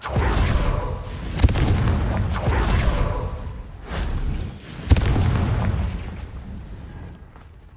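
Confringo, the explosive spell in Hogwarts Legacy, goes off as repeated booming blasts with sharp cracks at the onsets, each followed by a rumbling tail, several in succession at close range.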